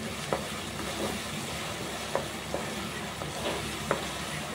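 Ginger garlic paste sizzles in a pan with chicken for a mint chicken gravy at home, a steady frying hiss broken by several sharp scrapes and clinks of stirring.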